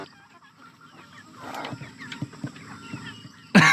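Chickens on a farm give scattered soft clucks and short calls against quiet barn ambience, ending in a sudden louder burst of noise.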